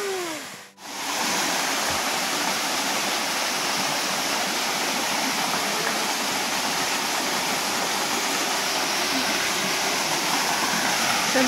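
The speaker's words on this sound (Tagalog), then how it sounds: "nandito na tayo sa mini falls ng Mount Cebrano" A small waterfall on Mount Sembrano in Pililla, Rizal rushes steadily and loudly in the foreground with a constant broadband roar, after a brief dip near the start.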